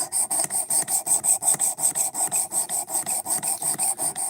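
A knife blade being sanded by hand with 220 grit abrasive: quick, evenly repeated rasping strokes, about five per second, close and crisp with no talk.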